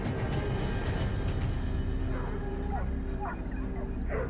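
Hunting dogs barking and yipping during a wild boar hunt, with several short, fairly distant barks and whines breaking through continuous outdoor background noise.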